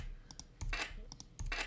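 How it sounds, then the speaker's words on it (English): Keys pressed on a computer keyboard, a few sharp close clicks in two small clusters over a quiet room. "If you select them and you press delete on your keyboard"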